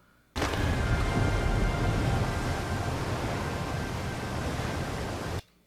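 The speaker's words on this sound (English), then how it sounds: "That is a large waterfall." A loud, steady roar of rushing water from a large waterfall in Star Wars: The Bad Batch starts abruptly, holds for about five seconds, then cuts off sharply.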